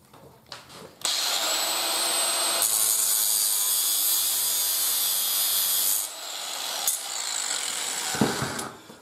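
Metal cutting on a bolt used as the corner hinge pin of a fold-up camping grill, a steady loud rasping saw or grinding sound running for several seconds, pausing briefly then resuming, with no talking.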